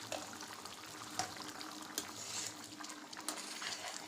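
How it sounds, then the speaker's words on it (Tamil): Jaggery and raw mango boiling in pots, giving a steady bubbling, hissing roar with occasional small pops, close and continuous throughout. "வெல்லம் ஒரு பக்கம் கொதிச்சிட்ருக்கு, மாங்காயும் ஒரு பக்கம் கொதிச்சிட்ருக்கு"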